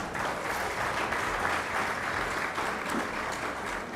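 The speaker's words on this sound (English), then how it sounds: "A big round of applause for her." Audience applause at a televised Indian awards ceremony, a broad, even roll of many hands clapping, moderately distant and sustained.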